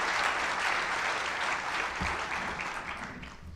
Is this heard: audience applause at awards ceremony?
yes